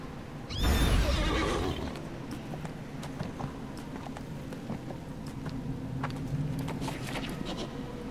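A horse in the video game Neverwinter lets out a loud, close whinny at the start, followed by a steady stretch of rhythmic hoof clip-clop over a low game background.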